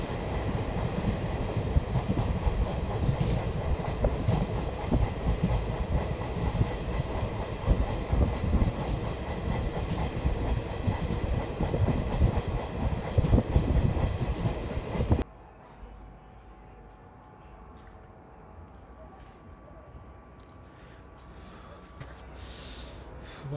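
A passenger train running late at night near Jabalpur gives a loud, steady rumbling roar with rail clatter from inside the coach for about fifteen seconds, then drops to a quiet hum as it slows.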